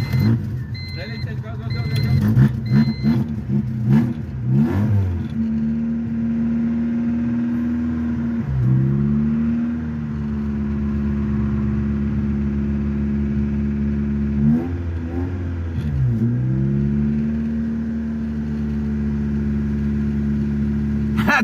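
A repaired car engine, a Honda EK after an engine swap, idles high and revs in several rising and falling sweeps, loud and close, while people talk over it.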